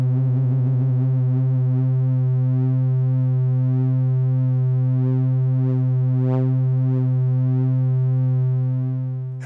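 A steady synthesizer sine wave tone from an Erica Synths Fusion VCO oscillator, with a slow, wavering chorus shimmer, sustained and loud throughout before easing off at the very end.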